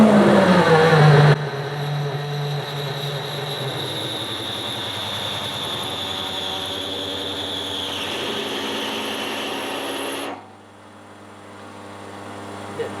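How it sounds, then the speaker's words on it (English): A drill bores out a metal alternator shaft to 12 with oil for a micro hydro Turgo turbine, giving a steady, close mechanical whine for about nine seconds before it cuts off. "let's drill this out to the 12 that we want"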